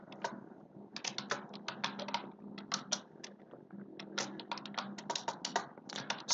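Fingers type steadily on a computer keyboard during a live online class, producing a fast, uneven patter of crisp key clicks that runs throughout at moderate volume with no talking.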